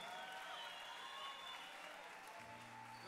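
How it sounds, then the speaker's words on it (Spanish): Applause from a concert crowd greets a band's visual artist, a faint, distant, continuous wash of clapping and cheering that runs for the whole stretch, with a low tone entering near the end. "Un aplauso para él, nuestro artista visual"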